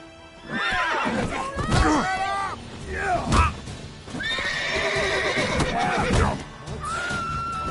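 Horse in The Witcher 3 video game whinnying and neighing repeatedly in several loud, close calls, with clip-clop hooves and thumps between them.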